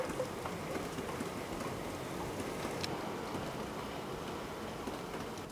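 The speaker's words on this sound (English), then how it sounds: "Hark at that rain." Heavy rain from Storm Christoph falling outdoors on a wet day in the UK, a steady continuous patter and hiss of drops at moderate level, with no talking.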